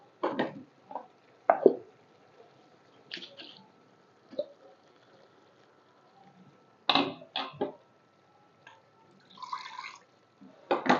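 A thick drumstick rice biryani mixture bubbling in a pot, scattered soft plops and bursts at irregular intervals with quiet pauses between, close and fairly faint.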